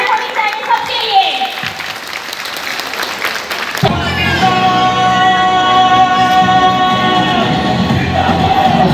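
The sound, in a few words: audience clapping at family festival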